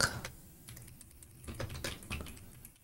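Rapid clicks of computer keyboard shortcut presses while copying and pasting in a Laravel editor, a few sharp taps scattered over soft background hum, close and fairly quiet.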